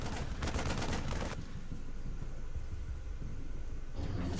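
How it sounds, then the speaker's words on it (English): StarCraft II Marine firing, a quiet rapid stream of small-arms shots in a fast rattling burst, followed by lower, softer rumbling battle noise. "He's got a Marine there. He's just shooting up."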